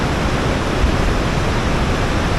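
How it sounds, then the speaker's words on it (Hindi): A mountain stream rushes close by in a loud, steady, unbroken wash of flowing water, with no other sounds standing out. "पानी बह रहा है।"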